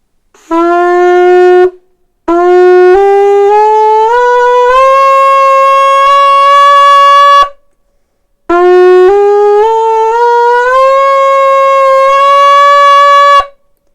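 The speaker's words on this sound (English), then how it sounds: "The scale of the instrument, the Bukkehorn, is in the minor scale." Two long, loud phrases on a Bukkehorn goat horn in a minor scale, each climbing stepwise through sustained, buzzy notes, separated by brief silences.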